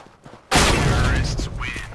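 A single loud, close Five-seveN pistol shot from CS:GO cracks out sharply and rings off in a long decaying tail, preceded by quiet background game noise.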